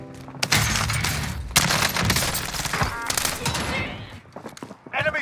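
Rapid bursts of gunfire in the video game Warzone, loud and dense for several seconds and then thinning to scattered shots, with faint game voice callouts mixed in.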